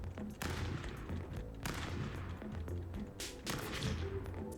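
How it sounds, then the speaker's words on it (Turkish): Gun in the video game Stick Fight firing repeatedly, with dense, muffled bursts of shots and thumps running continuously at low volume. "Bu silah çok geri tepiyor."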